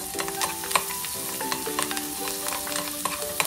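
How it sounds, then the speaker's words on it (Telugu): Sliced onions and curry leaves sizzling in hot oil in a pan for egg curry, with a spoon repeatedly scraping and stirring them; close, steady frying hiss with sharp clinks of the spoon. "ఈ ఉల్లిపాయలు కూడా కొంచెం ఫ్రై అవ్వాలి."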